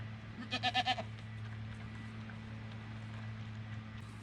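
Baby goats bleat in a short burst of several quick cries during bottle feeding, close by over a steady low hum.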